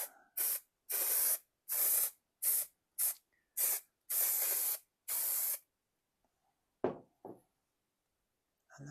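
Spray adhesive hisses onto Ford Escort XR3i car upholstery in about eight short, close, loud bursts with brief gaps between them, then stops, followed by a couple of faint knocks and a quiet stretch.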